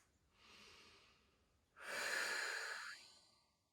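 Two slow breaths at restorative yoga, a softer inhale followed by a louder, longer exhale, close and quiet with no talking.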